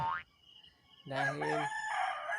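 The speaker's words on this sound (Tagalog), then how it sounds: "nanalaok na ang mga manok." Roosters crow at dawn in a countryside farmyard, one drawn-out crow rising over a quiet background, with a brief spoken word near the start.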